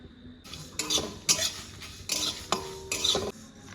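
Whole spices — radhuni, cumin, fenugreek, fennel, mustard seed — and dried chilli tossed in a pan, with a rhythmic series of close metal spatula scrapes and clatters over a faint sizzle.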